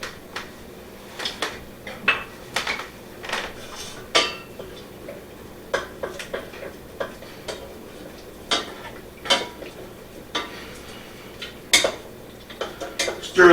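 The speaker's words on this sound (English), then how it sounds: "Stir this around until the butter melts." A spoon scrapes and clinks around a pan as butter is stirred into cooked carrots, with irregular light metallic taps and scrapes repeating steadily at close range, no voices.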